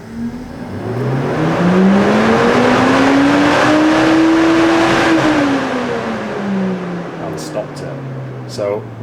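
Porsche radiator fan motor switched on by a diagnostic tool: a steady, loud motor whine spins up in pitch, holds for several seconds, then winds down, with a few clicks near the end.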